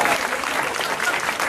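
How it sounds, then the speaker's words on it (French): Dense, continuous applause from a crowd at an anime convention panel with YouTubers, many hands clapping loudly and evenly throughout without a break. "On applaudit Gus qui s'en va tout de suite"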